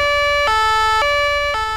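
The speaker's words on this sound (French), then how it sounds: "Tiens, vous voyez, la police nationale sirène, par exemple." A French police nationale siren from the driving game BeamNG Drive wails in a loud, steady two-tone pattern, alternating high and low notes about every half second with no pause and no talk.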